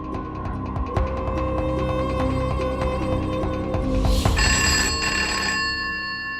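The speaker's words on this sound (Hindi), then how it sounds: "अरे ज्योति, देख तो सही फोन पे कौन है" Household telephone ringing with a steady electronic bell trill, loud and continuous over a busy room background, with a brief clatter partway through.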